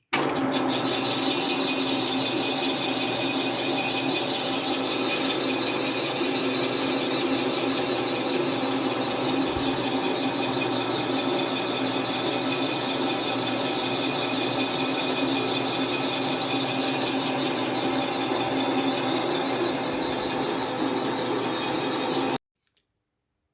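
A cylinder boring machine cuts an engine block cylinder at 290 rpm with 0.08 feed, a steady, dense grinding whir that holds for over twenty seconds and then stops abruptly.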